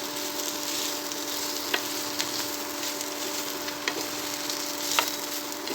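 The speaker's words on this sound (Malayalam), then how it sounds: "ഓയിലിൽ കുറച്ച് മഞ്ഞൾപ്പൊടി ഇട്ട് ആ കഴുകി വാരി വെച്ച സോയ അതിലിട്ട് കൊടുക്കാം. എന്നിട്ട് നല്ലൊന്ന് ഫ്രൈ ആക്കാം." Soya chunks fry in hot oil with turmeric, giving a dense, steady sizzle close by with a few soft clicks of stirring, and no one speaking.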